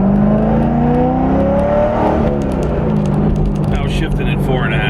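A Corvette C5 Z06 with a titanium super bypass exhaust and carbon tips revs loudly up and back down, its engine note rising then falling and settling into a throaty idle, with a voice briefly audible near the end.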